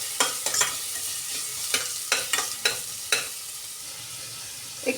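Finely chopped onions fry with mustard seeds for a gavar bhaji, a soft continuous sizzle punctuated by a series of sharp spatula knocks and scrapes at irregular intervals.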